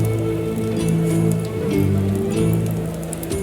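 Rain falls in the game Expeditions: Rome, a steady patter beneath a low sustained musical drone with shifting tones and no voices.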